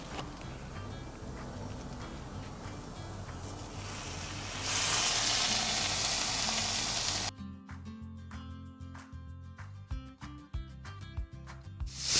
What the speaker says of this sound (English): Then we're going to put our bacon over there.